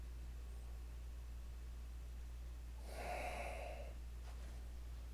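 A single close, breathy sniff of Jack Daniels Bonded whiskey from a glass, lasting about a second over a low steady hum, with a faint short second inhale just after.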